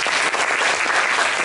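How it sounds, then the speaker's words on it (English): Audience at a school debate final applauds the two debating teams, steady dense clapping from a large crowd filling the room without a break, close and loud throughout. "both sides deserve a round of applause"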